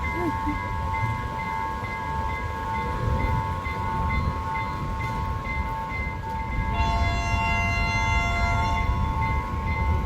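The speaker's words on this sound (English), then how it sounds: "Now you can hear the train's siren itself" A train's horn or siren sounds at a railway crossing in Sri Lanka, a steady sustained tone over a bed of crossing alarm and ambient wind noise, growing slightly louder and fuller in the later seconds.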